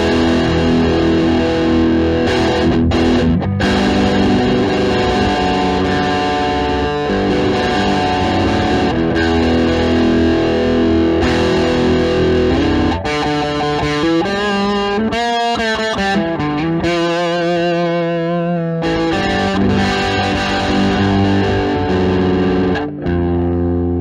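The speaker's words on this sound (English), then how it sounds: "let's hear a wonderful drive on this amp, just the built-in drive" Electric guitar played through an amp's built-in overdrive channel, a loud, continuous distorted tone with sustained chords and riffs, a brief bending lead passage midway, played alone without talk.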